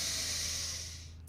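A long, steady inhale through the nose during a breathwork session comes as a soft, airy hiss, close and quiet, fading out at the end with no talk over it.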